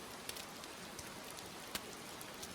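Steady rain patters across a surface, with a dense hiss and a few sharper drops striking now and then; no voices.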